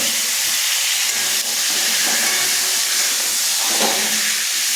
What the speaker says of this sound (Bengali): তেল গরম হয়ে গেছে, এবারে আমি পটলগুলো দিয়ে দেব